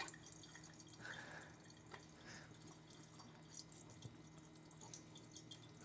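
Water drips and trickles steadily from an Antarctic Star nugget ice maker as it drains during cleaning, a faint, continuous splashing with occasional louder drops and no voices.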